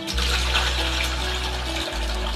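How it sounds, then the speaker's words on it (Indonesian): Water gushes steadily into a sprayer tank as it fills toward one liter, a loud close pour with a low hum underneath and one brief break. "sekarang kita tambahkan airnya ya"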